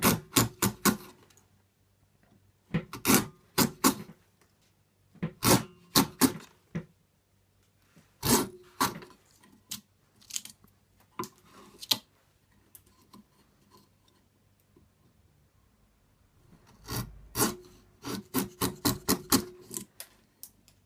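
Wood shavings are pared from a slot in a Spanish guitar's heel block, giving clusters of crisp, close ticking and scraping strokes in short bursts separated by quiet gaps, with no talking.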